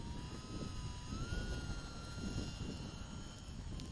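A small UMX Timber RC airplane taxiing on grass in windy conditions, its electric motor giving a faint steady whine that shifts slightly in pitch over wind noise.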